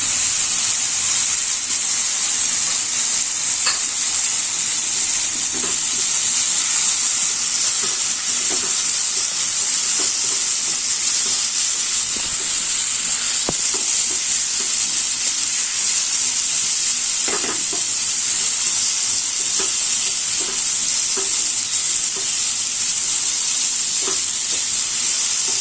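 Gobindobhog rice, potatoes and moong dal fry in a pan with a steady, loud sizzle and hiss throughout, broken by occasional soft stirring scrapes.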